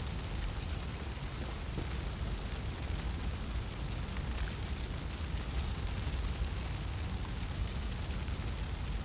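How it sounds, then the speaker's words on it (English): A big fire in Far Cry 5, a continuous faint roaring rumble with crackles and low booms throughout, no talking. "That fire is booming."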